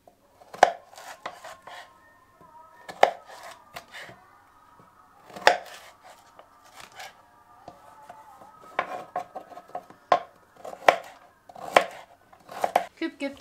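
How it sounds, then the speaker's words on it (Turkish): A knife chops carrots into cubes on a cutting board in irregular bursts of sharp, close taps, with brief pauses between runs. "Ve havuçlarımızı küp küp doğrayalım."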